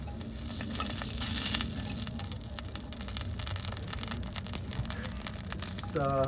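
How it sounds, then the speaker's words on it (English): Butter melting with oil in a pan over a propane camp stove, a constant crackling sizzle up close over a low rumbling roar from the burner, with faint scrapes along the way. "So you melt the butter with the oil, get that consistency."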